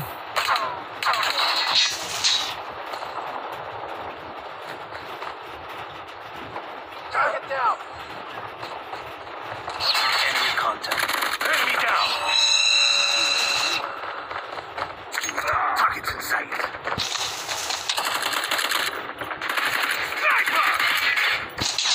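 Sentry gun in Call of Duty fires repeated rapid bursts of automatic gunfire amid game sound effects, with a voice speaking in between.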